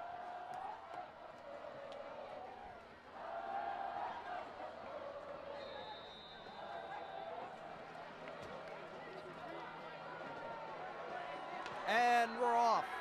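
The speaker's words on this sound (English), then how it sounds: "Let's just sit back and listen to the crowd." Crowd noise at a high school football game rolls on as a steady murmur of distant chatter and cheering, with a brief whistle-like tone near the end.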